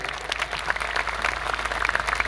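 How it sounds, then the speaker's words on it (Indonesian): Steady applause from an audience at an Islamic sholawat gathering in Kaliwungu Selatan, dense and continuous throughout with no talk over it. "tepuk tangan untuk Az-Zahir"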